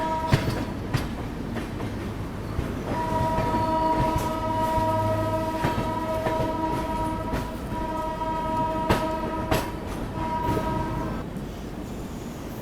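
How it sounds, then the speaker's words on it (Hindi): A Vande Bharat express heading from Ayodhya to Anand Vihar rolls past at Ayodhya Cantt, heard from aboard a Bihar Sampark Kranti train: a continuous rumble with rhythmic clicks of wheels over rail joints and a long sustained tonal hum through the middle. "ये आ चुकी है अयोध्या कैंट वंदे भारत, जो कि अयोध्या से आ रही है और आनंद विहार के लिए जा रही है"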